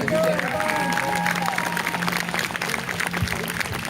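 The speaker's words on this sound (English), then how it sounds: "give them a round of applause" Applause from a tour group at a film location site, moderate and somewhat distant, scattered claps and voices continuing over several seconds.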